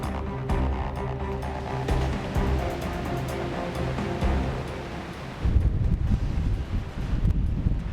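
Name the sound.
strong wind blowing around a mountainside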